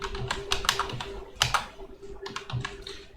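Quick bursts of keystrokes on a computer keyboard, close and crisp, in short uneven runs with brief pauses, no voice over them.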